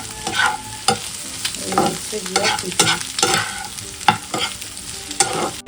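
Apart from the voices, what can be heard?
egg, onion and potato frying and being stirred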